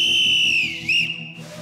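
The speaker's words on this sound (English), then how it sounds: "Blow the whistle to begin." A loud, shrill whistle is blown to open a cheerleading challenge, holding one long steady blast before a short second toot, with a faint hubbub of people behind it.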